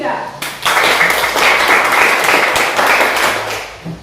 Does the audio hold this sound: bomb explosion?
no